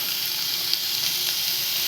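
Carrot, onion and tomato sizzling in a pan for an Indian-style sweet corn vegetable pasta, a dense, even frying hiss heard close and fairly loud, with a faint tick or two and no voices.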